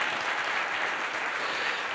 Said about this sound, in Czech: ještě jenom pojďme zatleskat, protože tyto tři hosté byly naprosto úžasný